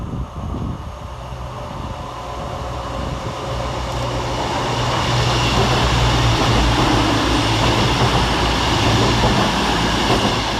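A Class 221 diesel train, unit 221141, passes Edinburgh Gateway station, its engine drone and wheel rumble building steadily louder as it draws near and rolls through.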